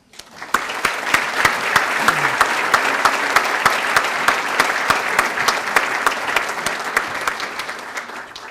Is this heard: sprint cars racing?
no